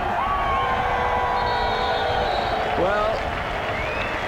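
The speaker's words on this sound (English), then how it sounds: "The crowd counts it down." A large crowd at a 1994 men's field hockey World Cup final in Sydney roars and cheers continuously, loud and dense, with a commentator speaking over the noise.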